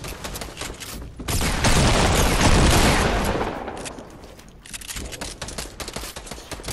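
Grenade blasts in Fortnite, a loud booming burst swelling in the middle and fading, with crackling shots and debris around it, played alone without talk.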